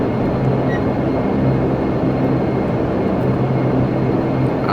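Turboprop engines of a Majestic Dash 8 Q400 in the Prepar3D flight simulator idle during taxi, a steady droning hum with a low tonal whine that stays even and continuous throughout, with no voices over it.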